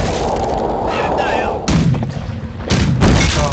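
Cannon blasts from a ship in a naval video game, two heavy booming shots about a second apart that hit loud and stay sustained over a dense rumbling background.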